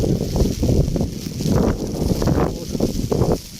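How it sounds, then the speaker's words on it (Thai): Rough, gusting storm wind buffets the microphone in uneven low rumbles, rising and falling over a few seconds outdoors in Savannakhet, Laos. "ลมมาแล้วลมมาแล้ว"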